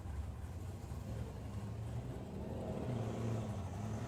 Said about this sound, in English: a Pontiac in the left lane, the 71 GTO